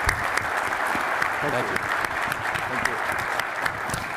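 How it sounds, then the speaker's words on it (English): An audience at a U.S. Soccer presidential candidate forum applauds steadily, sustained clapping throughout while a voice briefly speaks over it. "I hope we can give him just a little bit of applause for the job he's done"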